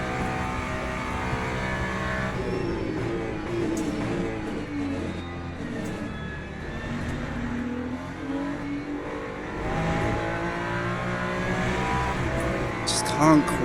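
A Ferrari GT3 race car engine in Le Mans Ultimate, racing online at Interlagos, drones loudly and continuously, its pitch swelling and falling through gear changes and corners without a break.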